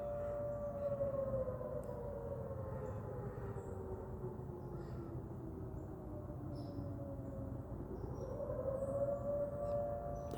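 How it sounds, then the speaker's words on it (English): Multiple fire sirens in Westmoreland County, Pennsylvania wail together, their tones rising and falling in long overlapping sweeps, loud and steady over distant rumble for the full stretch with no voices. "That's the water sirens."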